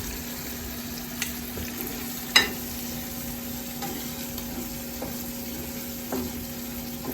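Escargot with parmesan and pesto sizzles quietly and steadily in a pan as it warms. A single sharp utensil clink comes partway through, with faint stirring scrapes around it.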